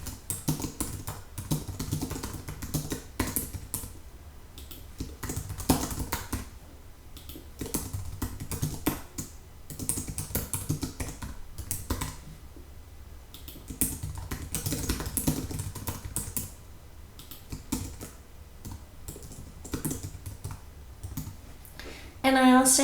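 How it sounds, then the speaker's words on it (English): Data is typed on a computer keyboard in fairly quiet surroundings, with rapid, irregular clicking of keys in bursts and short pauses, going on for over twenty seconds. "So I need to type in this data."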